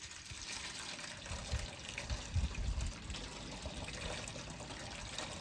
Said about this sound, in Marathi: आता मी त्यातलंय ना भिजलेलं पाणी काढून घेणार आणि स्वच्छ पाण्याने गहू धुवून घेणार।